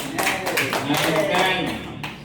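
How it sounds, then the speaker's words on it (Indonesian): Participants in a stunting-prevention training session clap for a woman named Ibu Yeni, a short burst of scattered handclaps with a voice talking over them. "tepuk tangan untuk Ibu Yeni"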